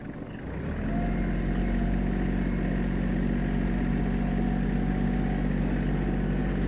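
A Kubota GL-300 mini tractor's small diesel engine starts pulling away in first gear, its steady low chugging settling into a constant, close running drone with no talk.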